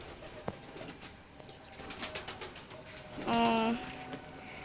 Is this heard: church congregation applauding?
no